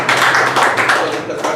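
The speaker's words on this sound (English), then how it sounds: "Please give him a big round of applause." An audience at a meeting gives a round of applause, with close, uneven hand clapping from a modest group for under two seconds, fading toward the end.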